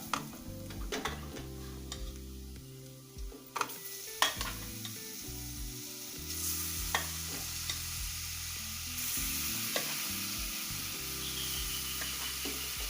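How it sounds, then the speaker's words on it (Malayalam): Pieces of beef boti frying in a pan and stirred, a constant sizzling hiss broken by repeated scraping and clattering of a spatula against the pan, close and without talk. "ഇതിലേക്ക് നമ്മളെ ബോട്ടിട്ട് കൊടുക്കാം"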